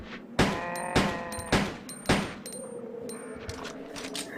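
Four sharp, evenly spaced pistol shots ring out from Ada's handgun in Resident Evil 2, roughly half a second apart, each with a short echoing tail, followed by a quieter stretch of low rumbling game ambience.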